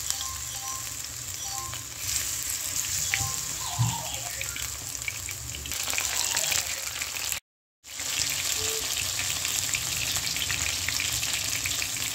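Steady, loud sizzling of lote fish fritters frying in hot oil in a wok runs throughout, with a few faint clinks and a brief dropout partway through; no one speaks.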